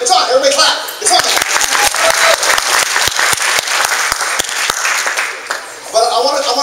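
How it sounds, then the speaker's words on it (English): Sustained audience applause at a Successful Thinkers birthday gathering in Elk Grove, with dense loud clapping filling the room for several seconds and a voice speaking briefly at the start and end. "Everybody clap."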